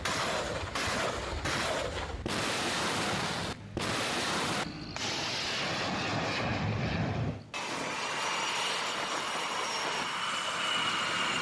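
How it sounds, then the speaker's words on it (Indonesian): An F/A-18 Super Hornet fighter jet prepares and takes off from the aircraft carrier USS Abraham Lincoln, a loud, continuous jet engine roar cut by abrupt edits, ending in a sustained, rushing afterburner blast. "Komando Pusat Amerika Serikat CENTCOM merilis rekaman jet tempur F/A-18 Super Hornet yang bersiap dan lepas landas dari USS Abraham Lincoln"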